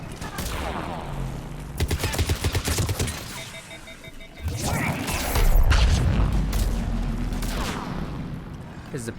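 Gunfire from Mass Effect 3 on Insanity difficulty: rapid bursts of automatic shots with mechanical clatter and booming impacts, loud and mixed with game sounds throughout.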